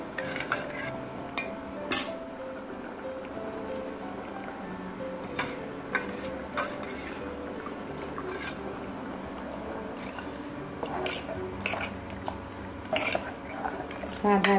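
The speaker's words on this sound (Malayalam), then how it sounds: "അതും കൂടെ നമുക്ക് കലക്കി ഒഴിക്കാം." A metal pot of onion sambar is stirred while ground spice paste and the water rinsed from the grinder jar are poured in, giving steady clinks and scraping knocks with wet swishing, close and moderately loud.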